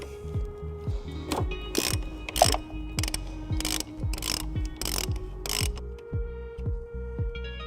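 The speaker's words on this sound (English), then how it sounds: "we're going to go ahead and take a 15mm socket, and we're going to take off our nut on the battery terminal." A ratchet fitted with a 15mm socket loosens the nut on a 2020 Dodge Journey battery terminal, making a steady series of quick clicking strokes at close range, with brief sharp knocks between them.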